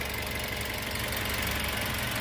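A 2019 Daihatsu Terios X Deluxe with a manual gearbox idles in a steady, even drone, its engine running smoothly and continuously close to the microphone with a faint rhythmic pulse and no talking.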